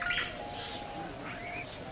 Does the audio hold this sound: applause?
no